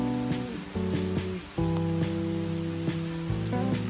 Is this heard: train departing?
no